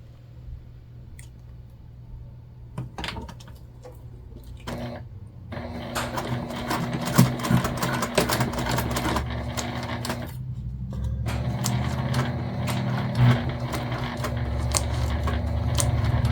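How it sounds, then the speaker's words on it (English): A domestic sewing machine runs along the seam of a sling bag, starting with a few taps, then a steady close whirring stitch that pauses briefly and resumes, without any talking. "We're going to go ahead and sew this at the seam allowance given in the pattern."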